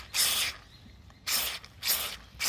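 Three short bursts of aerosol lubricant spray hiss sharply into a jammed BMW E39 door lock, with brief quiet pauses between them.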